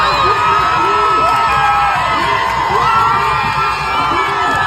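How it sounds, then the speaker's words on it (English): A crowd of protesters cheering and whooping, loud and sustained, with shouts rising over a steady roar of many voices. "Listen to these fascists cheer."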